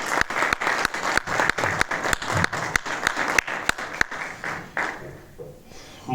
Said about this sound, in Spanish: Un aplauso, por favor, para Antonio Rodríguez.